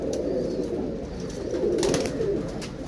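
Domestic pigeons, a mix of golden, lalpari and minar types with a female among them, coo in a low, rolling, continuous murmur close by, with no talking.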